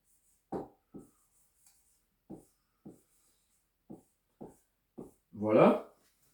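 A formula is written out in red with a series of short, separate scratchy strokes of the pen tapping and sliding across the surface in an uneven rhythm, followed by a brief louder vocal sound at the end.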